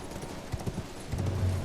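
Hooves of a horse galloping in the video game Elden Ring, a quick run of soft thuds that builds into a heavier rumble near the end, moderately loud with no talk.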